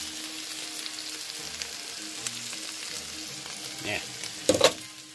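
Primo Thick and Zesty sauce sizzling in a frying pan with butter, a steady soft crackle with a few louder stirring scrapes near the end and a brief spoken word.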